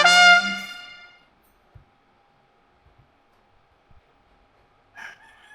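A rooster crows once, loud and fairly close, its call trailing off, followed by a quiet stretch with faint taps and a brief bird call at the end.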